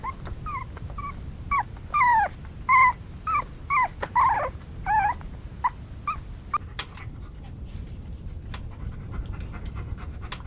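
A weak, thirsty dog lying on the ground pants rapidly and lets out a string of high whimpers and whines, close and fairly loud, before the whining fades into quieter ragged breathing.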